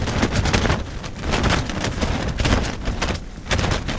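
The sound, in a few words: strong wind on Dartmoor at night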